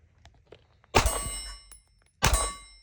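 Two pistol shots from a ported Smith & Wesson M&P 2.0 with Monsoon Tactical Dimebag porting, fired one-handed at a steel target outdoors. Each loud shot is followed by a ringing metallic clang, and the two hits are about a second apart.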